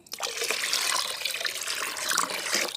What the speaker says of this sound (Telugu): సో ఇంకొక మగ్గు వాటర్ అయితే కలుపుతున్నాను